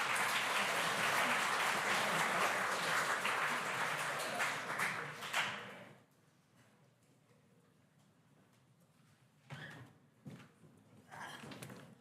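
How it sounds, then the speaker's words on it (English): At a health conference, an audience gives dense applause after a presentation that fades out around the halfway point, followed by near-quiet room tone with a few stray thumps and brief murmurs. "Another big round of applause for Albert and his team"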